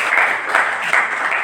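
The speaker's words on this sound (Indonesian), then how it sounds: "Tepuk tangan untuk kita semua." A classroom full of people applauds, a dense, continuous wash of many hands clapping close by in a brief, loud burst.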